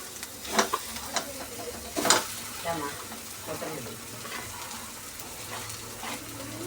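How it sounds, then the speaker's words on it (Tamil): Sweet potato bondas fry in hot oil with a steady, soft sizzle, broken by several sharp clattering stirs from a utensil near the start and middle. "சக்கரவள்ளி கிழங்கு போண்டா சக்கரவள்ளி கிழங்கு போட்டாச்சு"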